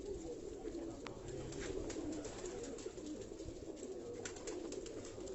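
Pigeons coo softly and repeatedly from a rooftop loft where birds are being readied for a flying competition, their low murmuring calls continuous and fairly faint.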